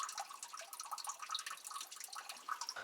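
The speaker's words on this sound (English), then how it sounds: "Not much water in there. You can hear it trickling though." A thin trickle of water in a small shallow well along a forest hiking trail, faint, close and irregular, with soft drips and gurgles and no voices.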